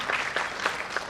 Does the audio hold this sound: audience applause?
yes